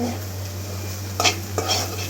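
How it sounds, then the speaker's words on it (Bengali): Leafy greens frying in a pan ahead of a beef-and-potato curry, a low steady sizzle under a constant hum, broken by two short scraping stirs of a spatula. "প্রথমে এখানে আমি শাক ভেজে নিচ্ছি"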